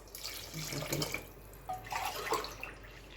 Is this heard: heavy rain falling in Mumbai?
no